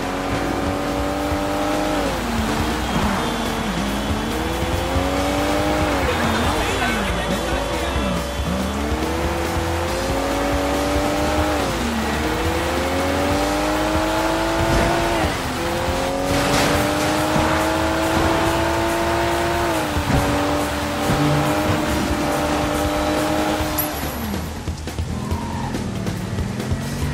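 A car in the Sleeping Dogs video game revs hard through gear changes with repeated tire squeals as it corners, loud and close, engine pitch rising and falling continuously, no talk.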